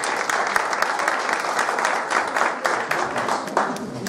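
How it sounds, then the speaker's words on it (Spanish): A crowd applauds a congressman from the Partido del Trabajo at a Mexican national campaign event for peace and family security, with loud sustained clapping and some voices mixed in. "ernández Noroña para el Partido del Trabajo, para que pido un aplauso, por favor."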